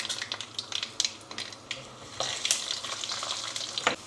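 Mustard seeds and urad dal spluttering in hot oil for a Kerala village-style rasam: quiet, dense crackling and popping with sharper bursts scattered throughout, close and steady, with no voices.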